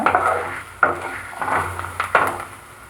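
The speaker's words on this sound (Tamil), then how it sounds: "இதெல்லாத்தையும் சேர்த்து வதக்கி விடுங்க" A spatula scrapes and clatters against a pan in a few rhythmic strokes as coconut, garlic cloves and spices are sautéed for a turkey berry (sundakkai) chutney; it is close and fairly clear, with no talking.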